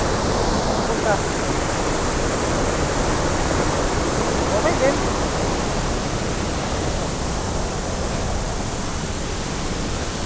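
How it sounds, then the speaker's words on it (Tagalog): Abot Falls, a waterfall in Danglas, Abra, pours in a steady, loud broadband roar of rushing water that fills the whole stretch without pause, close by and unbroken. "ang maririnig lang natin ay ang agos ng tubig"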